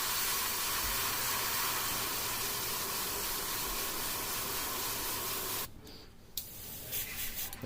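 An airbrush nozzle blows out paint in a steady, close spraying hiss that runs for several seconds, then cuts off abruptly, followed by a few short bursts of air.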